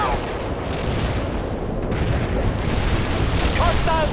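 Artillery fire in the video game World in Conflict, with heavy, continuous rumbling barrage and booms filling the scene at close range, under radio chatter and voices.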